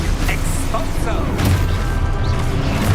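Exposo spell explosions in Hogwarts Legacy, loud booming crashes with debris-like clatter and magical whooshes, layered close together over a few seconds with game effects and some vocal sound mixed in.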